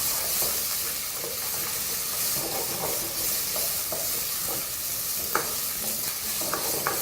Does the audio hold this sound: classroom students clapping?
no